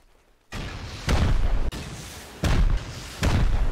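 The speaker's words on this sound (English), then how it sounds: "8 more rockets aimed into 4 walls between the first and second floor will expose 2 rooms on the second floor." Rockets slamming into base walls in the Rust video game, five heavy explosions in a row, each a loud booming blast that rumbles on between hits.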